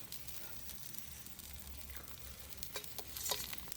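Egg dosa sizzling on a hot pan, a steady close frying hiss throughout with a few faint scraping clicks near the end and no talking.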